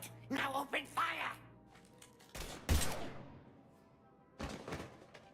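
Gunfire bursts in the video game Mass Effect 3, a sharp loud volley around the middle followed by another burst near the end, with voices talking over the opening.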